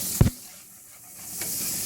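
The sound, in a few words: garlic sizzling in oil and butter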